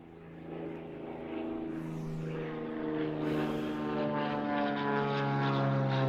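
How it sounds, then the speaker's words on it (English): A propeller airplane running close by outdoors, its engine drone loud and steady with strong harmonic tones that swell slightly throughout, with no voices. "Being outside next to a plane."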